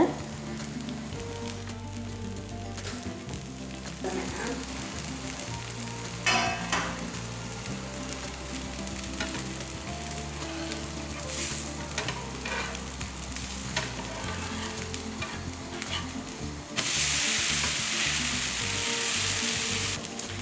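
Carrot dosa sizzles in sesame oil on a pan, a steady crackling fry close up that stays constant throughout and grows brighter and louder near the end.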